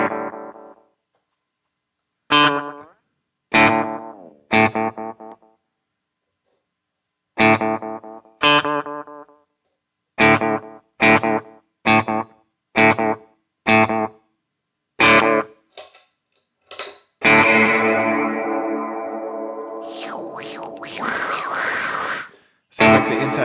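An electric guitar runs through a Keeley Caverns V2 delay/reverb pedal, first as short separate plucked notes and chords with gaps between them, then as a long swelling, washy, modulated tail. The sound is clear and fairly loud.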